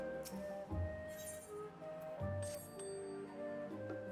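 A bright bell chime from a summoning bell in Final Fantasy XIV rings twice over steady game music, clear and close in the mix.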